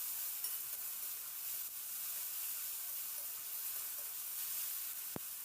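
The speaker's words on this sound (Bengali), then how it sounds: "এবার আদা রসুনের পেস্টটা দিয়ে একটু নাড়াচাড়া করে নেব যাতে আদা রসুনের কাঁচা গন্ধটা চলে যায়" Ginger garlic paste and onions sizzle and fry in a pan while being stirred, a faint steady crackle with a brief sharp clink near the end, no voices.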